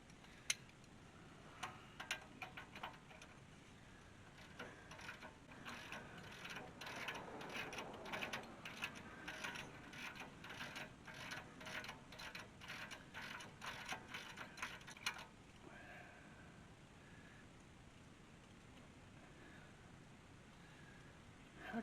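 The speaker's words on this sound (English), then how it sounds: "So now, put a ratchet on there." Ratchet turning a bolt on a ball joint of a Ford F350 with a 7.3 IDI engine, a quiet steady run of fine clicking for about fifteen seconds, then near silence, with no talking.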